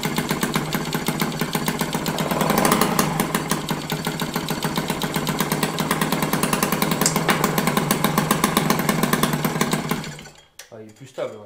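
A Peugeot 103 SPX moped being restored idles with an 80 carburettor jet set to a very low idle, a close, steady buzzing putter that runs almost the whole time before cutting off near the end.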